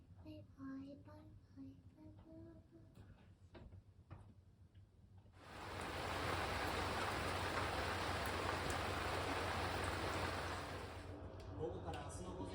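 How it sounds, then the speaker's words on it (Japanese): Rain falling steadily, a dense hiss of drops that swells in and holds for several seconds, following a stretch of soft ticking and a voice talking quietly. "あれ雨降ったね。"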